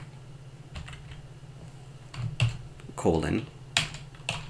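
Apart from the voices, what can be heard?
typing code on a computer keyboard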